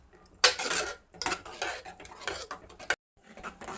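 A utensil clatters and scrapes against a pot in quick bursts as fenugreek, coriander and cumin powders are stirred into a rice pulusu until it thickens, with brief pauses between strokes.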